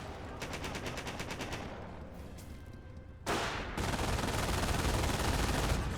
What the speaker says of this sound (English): Sniper opening up there.